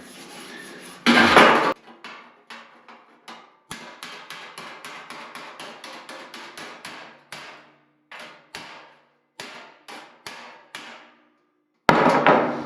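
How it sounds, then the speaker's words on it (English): Repeated metal hammer blows straightening a car fender in a workshop, sharp ringing strikes in quick bursts and steady runs with short pauses, close and fairly loud. "once I hammer that straight"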